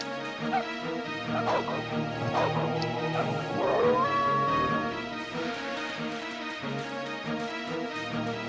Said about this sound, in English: I have to wonder if the dog noises are someone at Rare making dog noises